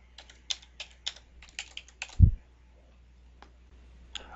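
Keys clatter on a computer keyboard as a date is typed, a quick series of about a dozen crisp clicks, with one heavier thump midway and a final lone tap.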